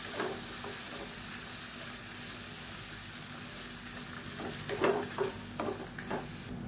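Lemon juice stirred into frying masala in a pan for masala lemon rice, a steady close sizzle and hiss with a few scraping stirs toward the end, no talk.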